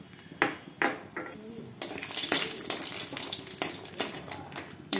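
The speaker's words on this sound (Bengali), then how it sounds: "এবারে ওই মাছের তেলে আমি ডালের বড়িগুলো ভেজে নেব।" Lentil dumplings (bori) fry in leftover fish oil in a pan, a low sizzle broken by sharp clinks and scrapes of a spatula against metal, close and intermittent.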